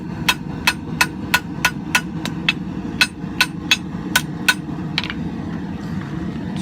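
An old file is hammered on an anvil during hand forging, a dozen or so sharp, ringing strikes landing in a quick, fairly even rhythm, loud and close, with no speech.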